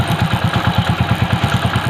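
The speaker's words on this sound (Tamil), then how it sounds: "இப்போ வண்டி ஓடிட்டு இருக்கு" Motorcycle engine running in gear during an engine flush, a loud, close, rapid regular thumping pulse with a mechanical clatter over it and no pause.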